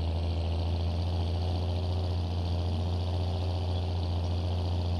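A tractor engine in Farming Simulator 22 idles in a steady, loud low rumble with a constant hum and no change in pitch, heard alone.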